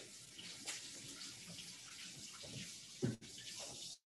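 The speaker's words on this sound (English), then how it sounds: "I'm just gonna rinse my hands." Tap water running as hands are rinsed at a kitchen sink before working with phyllo dough, a steady broadband wash lasting about four seconds with a brief splash near the end and a short spoken word.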